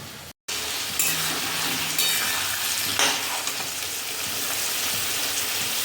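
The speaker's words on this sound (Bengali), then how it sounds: "চিকেনে অলমোস্ট সব ভাজা হয়ে গেছে।" Chicken pieces frying in a pan, a loud steady sizzle close up with occasional stirring scrapes and light utensil clinks, after a brief silent gap at the start; no voices.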